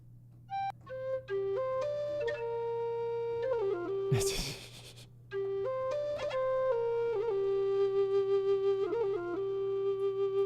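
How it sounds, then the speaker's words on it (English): A low whistle plays a slow, breathy melody with held notes and ornamented turns, briefly interrupted by a noisy burst midway, over a steady low drone. "not pipes, but maybe a low whistle."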